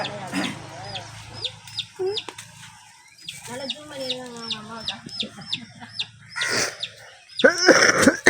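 A hen clucks in short repeated bursts amid a busy farmyard, with sharp chirps and other bird calls scattered around; no speech is heard.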